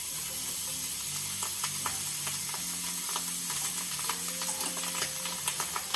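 Garlic bread frying in a pan on a home kitchen stove, a steady close sizzle and hiss with light scraping and stirring clicks throughout.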